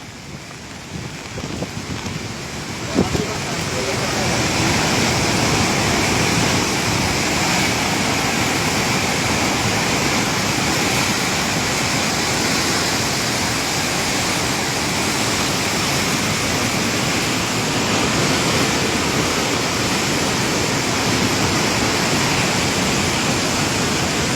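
Constant roar of the flooded Ravi River in Punjab, broad and steady, building in the first few seconds and then holding loud and unbroken.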